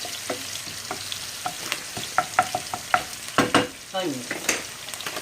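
Onions fry in a pan and get stirred now and then, a quiet sizzle broken by scattered scraping strokes and light clinks from the spoon, with no talk.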